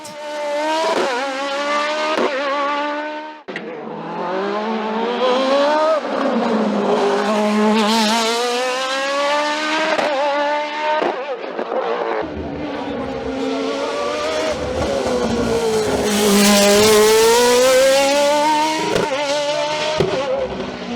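A Nova Proto NP01 V8 race car climbs the Col Saint Pierre hillclimb near Saint-Jean-du-Gard, screaming close by through rapid upshifts and sharp rising engine notes, with brief drops between gears and a lull before it charges on.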